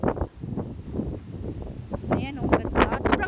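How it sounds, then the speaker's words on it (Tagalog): Strong wind buffets the microphone in gusty rumbles at Caunayan, Pagudpud, Ilocos Norte, Philippines, while a person talks over it. "Sobrang lakas kasi ng hangin."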